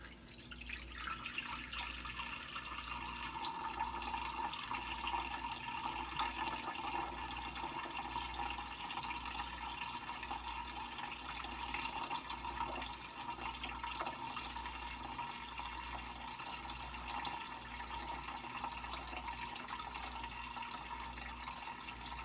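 About two gallons of water poured slowly from a container into a tank make a steady, continuous splashing and trickling wash that holds at an even level for the whole stretch, with no voices.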